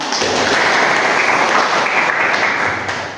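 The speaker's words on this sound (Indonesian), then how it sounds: "Tepuk tangan untuk kita." A classroom of students claps together in a dense, steady burst of applause lasting about three seconds, loud and close, fading slightly at the end with no talking over it.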